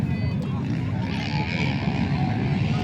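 A dirt bike engine runs at a dirt bike race in Jalna, a low continuous rumble mixed with crowd babble and people talking nearby, heard steadily and fairly loud throughout.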